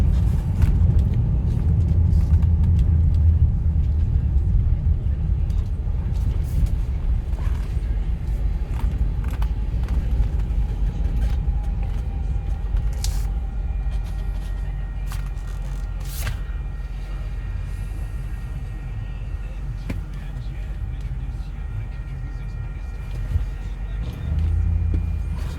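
A 2007 Ford Explorer Sport Trac V8 4WD kicks down and accelerates, its engine a loud continuous low rumble heard from inside the cab, easing slightly toward the end.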